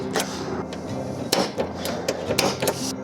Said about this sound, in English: we're going to use a center punch just to make sure we get a starting point for our drill